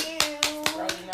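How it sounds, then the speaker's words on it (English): Four hand claps at an even, slow rhythm, fairly close and crisp, closing out a mental health podcast episode, over a faint steady tone. "I want to give everybody a round of applause again"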